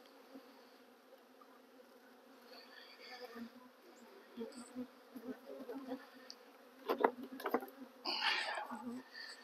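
Honeybees drone around an opened hive during a Doolittle-style split, a low steady buzz with louder passes of individual bees and brief handling clatter near the end.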